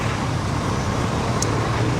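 Midday traffic jam on a Kampala road, a dense continuous rumble of cars, buses and engines with a faint higher squeak, no talking.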